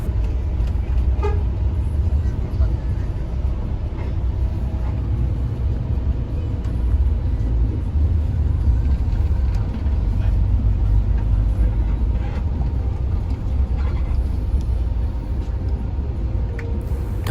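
Night at Purboyo bus terminal in Madiun: a steady, loud rumble of idling buses and traffic fills the air, with occasional horn toots cutting through.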